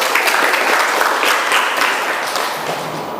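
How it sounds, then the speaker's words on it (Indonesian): An audience claps together in sustained, even applause, close and loud for a few seconds without a break. "Ya, baik, kita berikan aplaus"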